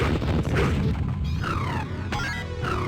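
A magic attack fires in the Dreamcast version of Crossed Swords, a Neo Geo fighting game, with loud crashing blasts and booming impacts over dense, continuous game noise.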